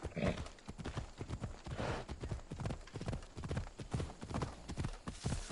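Steady clip-clop of horse hooves trotting at a slightly uneven pace in the video game Assassin's Creed Odyssey, close and continuous throughout, with faint background noise.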